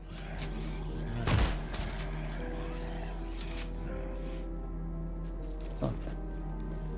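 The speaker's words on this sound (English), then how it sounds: "The shotgun feels good." A shotgun fires in a horror survival video game, one sharp loud blast followed by a fainter second shot, set against a steady low ambient hum.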